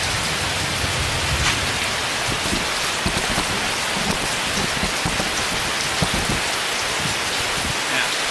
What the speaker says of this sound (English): The rain's blowing in here.